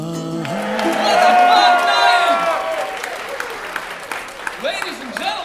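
An audience at a sold-out special needs talent showcase breaks into cheering and applause. The end of a sung lullaby tune fades into a loud crowd swell, which thins into scattered claps and whoops.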